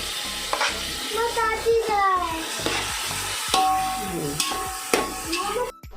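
Finely chopped tomatoes with onions fry and sizzle in a pan for Goan chicken xacuti, with steady stirring scrapes throughout and a voice talking over the cooking.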